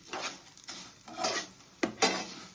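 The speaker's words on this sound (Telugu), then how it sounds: "ఈ రెండింటిని కలుపుకుంటూ స్లో ఫ్లేమ్లో పెట్టి మాత్రమే వేయించుకోవాలి" Urad dal and dried chillies stir-fried in a pan over a slow flame: a few separate scraping strokes of a spoon against the metal pan with a faint sizzle beneath, close by.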